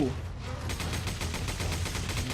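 Rapid gunfire in Resident Evil 5, a steady run of evenly spaced shots at close range, with a voice talking faintly at the start.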